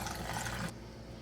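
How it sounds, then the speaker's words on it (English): Cold water pours steadily into a cold brew coffee jar, a broad splashing wash that cuts off sharply partway through, leaving a quiet hiss. "I'm gonna fill it up to the silver line with cold water"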